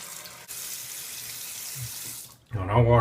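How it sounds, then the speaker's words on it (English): A bathroom tap runs steadily while a face is rinsed with cold water during a wet shave, a loud close hiss of flowing water for most of the time before breaking off, followed by a voice. "wash my face off with the cold"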